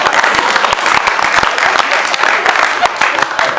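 Audience at a poetry and music afternoon applauding, a dense steady patter of many hands clapping at close range for several seconds, with a few sharper individual claps standing out.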